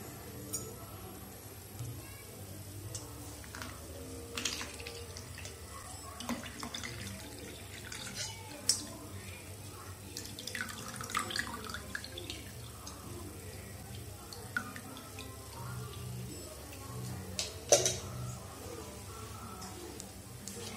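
Boiled nannari root liquid is strained, pouring and trickling steadily for a long stretch, with occasional splashes and light clatter, fairly quiet throughout.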